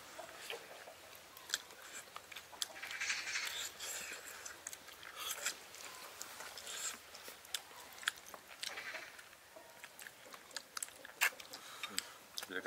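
Close, wet chewing and biting on stewed bullfrog and soft-shelled turtle meat from an iron pot, with clicks and smacks, softly under quiet background talk.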